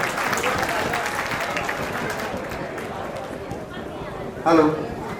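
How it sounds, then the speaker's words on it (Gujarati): Sustained applause from an audience at a community celebration event fills the space, steady and dense, with a voice briefly speaking out near the end. "તાળીઓ પાડો."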